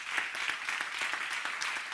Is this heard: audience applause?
yes